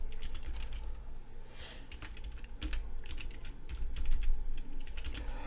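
A product name being typed on a computer keyboard in a quiet room, a quick run of light, close key clicks with brief pauses between bursts.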